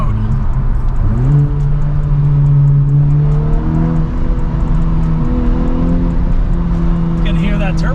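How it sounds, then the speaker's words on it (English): A 2021 Honda Civic Type R FK8 with a muffler-deleted exhaust, in R mode, downshifts from third to second gear. It gives a loud, close engine drone that jumps sharply in pitch at the shift, then holds and settles. "Here's the downshift, guys. 3rd gear to 2nd gear"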